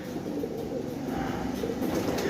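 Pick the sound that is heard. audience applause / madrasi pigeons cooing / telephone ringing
madrasi pigeons cooing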